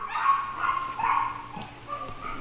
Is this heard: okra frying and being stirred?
no